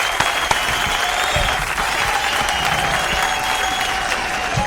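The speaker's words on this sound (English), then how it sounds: "Let's give a round of applause," A live audience at a festive holiday-themed show breaks into sustained applause, a dense, steady wash of clapping that stays loud and even for the full length with no talk over it.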